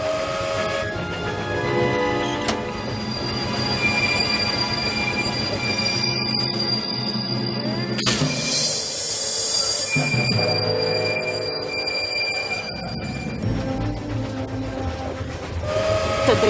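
A train runs along rails with a continuous rumble, high squealing wheel tones and whistle-like sustained notes, building and shifting over about sixteen seconds, loud and close with no talking.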